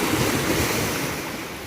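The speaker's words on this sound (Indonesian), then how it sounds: "Ini suasana yang bikin orang rindu untuk menikmati tepi pantai" Ocean surf washes steadily onto a natural beach at Pulau Panjang in Pasaman Barat, West Sumatra, a close, continuous roar of breaking waves mixed with wind buffeting the microphone.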